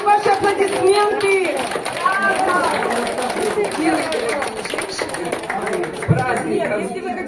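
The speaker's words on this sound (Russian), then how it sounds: "Я хочу ваши аплодисменты!" An audience at a Purim celebration in a club applauds steadily throughout, the dense clapping mixed with children's voices and lively chatter.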